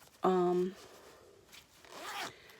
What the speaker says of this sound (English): right here they have this real pretty lace zipper on them